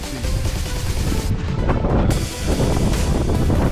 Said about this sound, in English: It's been quite windy and the snow hits you like needles.